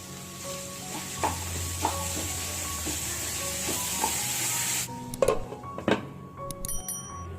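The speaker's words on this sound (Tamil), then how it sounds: "ஸோ இது நல்லா வதங்கிடுச்சு" Tomatoes, cashews and ginger garlic paste sauté in a pan with a soft steady sizzle, broken by occasional spoon taps and stirring clinks that grow louder and more scattered toward the end.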